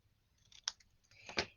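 Scissors cutting paper at angles for a handmade stamped card: two crisp, close snips about a second apart, each with a short rasping slide, in a quiet room with no talking.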